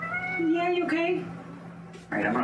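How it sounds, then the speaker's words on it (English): A house cat meows a few times in short, rising pitched calls close by, while a person talks to it throughout. "If you guys hear meowing and I don't hear it, let me know."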